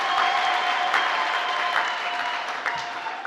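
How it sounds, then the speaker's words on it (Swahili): Guests at a wedding ceremony applauding together, a dense, steady burst of clapping from a sizeable crowd, fairly close and sustained throughout, with faint voices mixed in. "Hebu wapigieni makofi mazuri."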